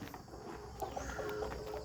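Burmese fighting chickens cluck in short, scattered calls at a Thai farm in the early morning, fairly close against a steady background hum, with no one talking.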